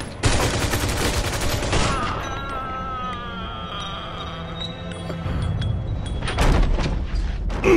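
Gunfire erupts in a Mafia 2 video game cutscene: a loud opening burst of shots, a quieter stretch with tonal music or ambience, then another heavy volley near the end.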